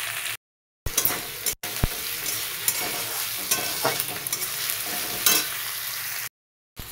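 Onion, ginger and garlic sizzle steadily in a hot pan while a utensil stirs and scrapes, with clacks against the metal and brief silent gaps between bursts of frying. No one speaks.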